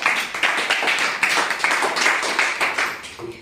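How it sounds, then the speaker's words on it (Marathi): A group of participants at a mothers' and parents' workshop in a village claps for two participants, a brisk run of close, dense hand claps that lasts a few seconds. "जोरदार टाळ्या देऊया"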